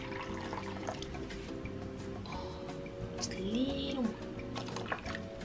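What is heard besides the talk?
pouring hot water into cherry cobbler mix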